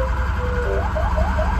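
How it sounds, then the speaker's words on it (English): Whining electrical inverter running inside a converted ambulance-style vehicle, a steady tonal hum layered over low rumbling road and engine noise, continuous and fairly close with no talking. "I hear the inverter making noise."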